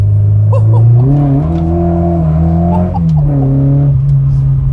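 A 1972 Ford Escort Mk1 with a 122 hp engine pulls hard through tight road bends, its loud, close engine note rising and shifting pitch steadily as the revs climb and settle.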